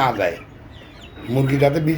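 Native (desi) chickens kept on litter in the rainy season cluck close by in short, throaty bursts at the start and again near the end, with a quieter stretch in between.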